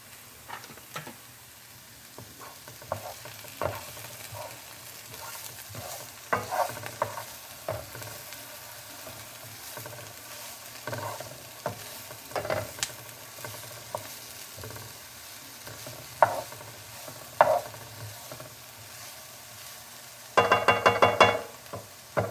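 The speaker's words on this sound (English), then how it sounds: "We will saute the onions and celery until they are soft and done" Onions and celery soften in a hot pan with a faint steady sizzle, broken by scattered scrapes and knocks of a utensil stirring, quiet and close.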